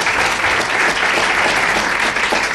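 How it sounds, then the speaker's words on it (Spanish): A live audience at an Aragón Radio programme presentation gives strong applause for Anabel La Peña, a loud, sustained, uniform clatter of many hands. "Fuerte el aplauso para ella, por favor"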